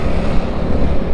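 A strong, icy winter headwind buffets a rider on a scooter, a loud, rough rumble of wind noise battering the microphone continuously for the short moment.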